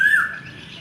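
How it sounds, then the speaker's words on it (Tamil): An Asian koel, a cuckoo, gives a single sharp, squawking call that fades quickly against a quiet outdoor background. "இந்த ஒரு குயில் சத்தம் கேட்குது பார்த்தீங்களா"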